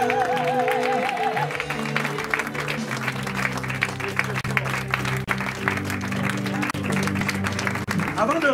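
A church congregation applauds and cheers for the Lord, with dense, sustained clapping and crowd noise running throughout, while a voice and music continue underneath.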